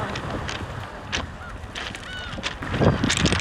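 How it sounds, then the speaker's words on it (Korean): Seagulls call in scattered squawks over a steady, noisy outdoor background on a pebble beach in Dalian, China, with a few cries rising above the din. "갈매기 엄청 많아"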